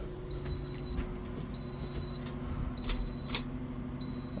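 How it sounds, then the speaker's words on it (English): Four short, high electronic beeps repeat at a steady interval in a solar shed with batteries at 9.8 volts, over a low machine hum, with faint clicks and rattles around them. "There's something beeping."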